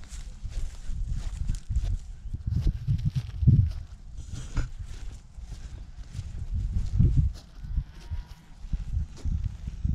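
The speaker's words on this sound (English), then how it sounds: "so that's this bunch of cows." A herd of crossbred orange-coloured cattle moving about a field, with a steady run of close, low hoof thuds and shuffling footsteps that swell and fade, no voices.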